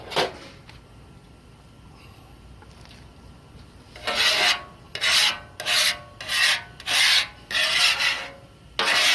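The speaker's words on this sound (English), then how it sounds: "Let me scrape this thing down," A metal scraper drawn across a Blackstone 36-inch griddle surface, first quiet, then a run of about seven loud, rhythmic rasping strokes with short pauses between them, close up and without talk.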